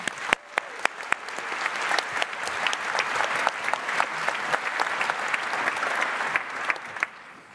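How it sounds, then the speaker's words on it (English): Audience applause at a security conference talk on iOS zero-day spyware, dense clapping from a large room with sharp individual claps popping out near the front, steady for several seconds before tapering. "So give an applause"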